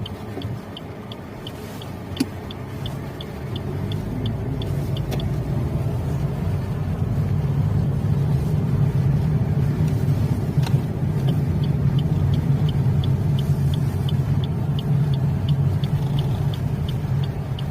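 Suzuki Ertiga Hybrid car driving, a steady low road and engine rumble heard from inside the cabin, rising slightly in the first seconds, with a faint regular ticking above it.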